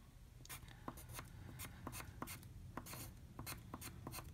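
A pencil scratches across inexpensive paper in quick, faint strokes, a dozen or so short rasps in an uneven rhythm, heard close and alone.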